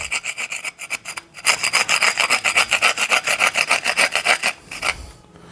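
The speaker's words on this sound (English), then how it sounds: "Oh, I've got to clean this plate up now." Rust and deposits being scraped by hand off a corroded plate from a David Brown 995 tractor during a water pump change: a steady run of close, rhythmic rasping strokes, loud and dry, with a short pause near the start.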